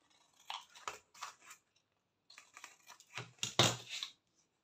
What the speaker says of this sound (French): je coupe les angles tels quels, hein, avec mes grands ciseaux